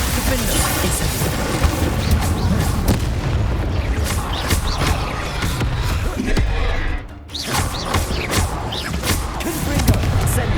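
Spell explosions from the fire and blasting spells Confringo and Incendio in the video game Hogwarts Legacy, a dense, continuous barrage of booms and crashes with a brief dip in loudness partway through.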